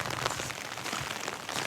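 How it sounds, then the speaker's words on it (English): Steady rain falls on a soaked horse arena on a chilly, wet day, a dense hiss of drops that stays even throughout without any voices. "I don't know if you can see it, but it's raining."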